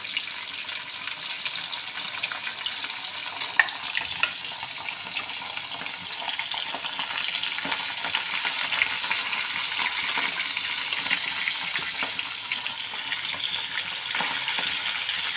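Several bhola fish frying in a large wok (kadai), producing a steady, dense hiss and crackle of hot oil that stays loud and even throughout, with no talking.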